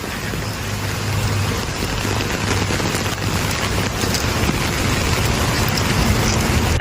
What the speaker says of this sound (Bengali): এখনো বৃষ্টি হচ্ছে, বাট বৃষ্টি থামার জন্য অপেক্ষা করা যাবে না।